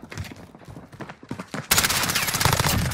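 Gunfire in the Modern Warfare video game: a few scattered shots at first, then a sudden, loud, sustained stretch of rapid automatic fire that fills the rest of the moment.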